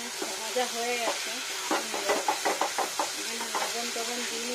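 Pointed gourd with fish eggs frying in a pan over high heat, with a steady sizzle and a run of distinct stirring knocks and scrapes of the spatula partway through.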